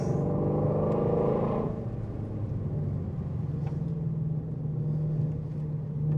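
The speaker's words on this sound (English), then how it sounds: "Ian, it's just the motor" Car motor running at a steady low rumble, with a brief rougher rise at the start before it settles into an even, continuous hum with no voices.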